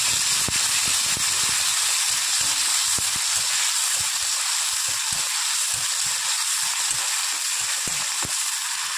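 A paste of tomato, ginger and green chili sizzles and fries steadily in hot oil, with a continuous loud hiss and repeated scraping knocks from stirring throughout, no voices.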